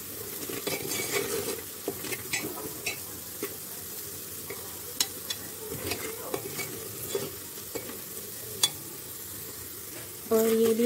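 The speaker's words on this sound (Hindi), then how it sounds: "थोड़ा सा इसको अच्छे से रोस्ट कर लेती हूँ" Rajma masala roasting in a pan with a steady sizzle under repeated stirring and spoon scrapes, a few sharp clinks of utensil against metal and a louder clatter at the very end.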